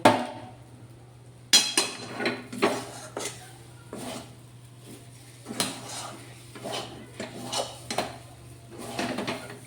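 A utensil scrapes and knocks against a pan while a dry chomchom mixture with a little ghee is stirred, giving irregular clinks and scrapes over a low steady hum.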